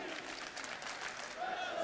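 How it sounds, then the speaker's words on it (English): A crowd cheering and applauding at a CS:GO major grand final between Natus Vincere and Luminosity Gaming, a broad sustained roar filling the arena beneath a commentator's talk. "This crowd is definitely fantastic today."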